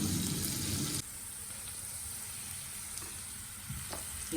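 Potato pieces and onions fry in a pan with a close, steady sizzle, louder at first then settling into a softer hiss with a few stirring scrapes.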